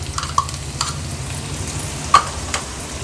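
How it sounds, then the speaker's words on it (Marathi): Ginger garlic paste frying in oil on a tawa for an Agri Koli style baby shrimp fry, with a soft, steady sizzle and a few light clicks of a spoon stirring. "आलं आणि लसूण तेलावर थोडस परतून घेऊया"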